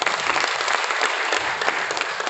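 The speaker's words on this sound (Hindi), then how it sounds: "हाँ, ये तालियां बजा दो एक बार।" Loud, close audience clapping from a group gathered at a talk, a dense continuous patter of many hands at steady volume with no speech over it.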